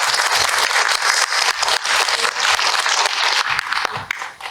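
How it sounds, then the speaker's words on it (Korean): Audience at a Yeonggwang county council public hearing on public school meals applauds, a dense, loud clatter of many hands that carries on steadily and begins to thin toward the end. "박수 한번 주세요."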